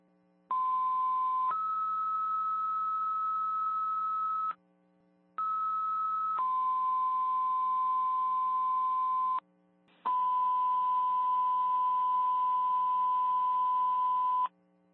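Fire dispatch pager alert tones for a third-alarm building fire in Alstead, New Hampshire: a series of loud, sustained electronic tones that switch pitch, pause briefly, then resume in long steady blasts over a faint radio hum.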